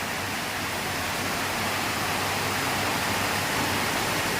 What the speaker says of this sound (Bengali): অনেক দিন পরে অনেক জোরে জোরে বৃষ্টি পড়ছে